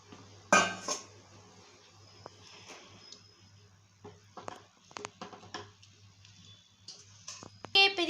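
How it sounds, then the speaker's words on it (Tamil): Tutti frutti being stirred vigorously in sugar syrup, with scattered metallic clinks and taps of a spoon against the pan, irregular and close, with no speech. "இப்போ ஃபுல் ஸ்பீட் வச்சு தான் கிண்டிகிட்டு இருக்கோம்."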